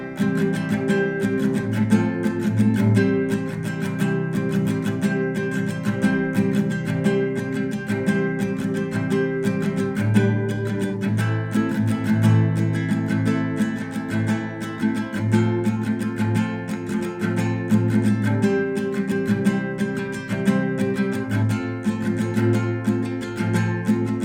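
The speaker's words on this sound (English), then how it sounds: "So the verse/interlude part will sound like this." Acoustic guitar strumming the verse and interlude chord pattern of a song, played without a capo, a steady, full rhythmic strum that carries on evenly throughout with no voice over it.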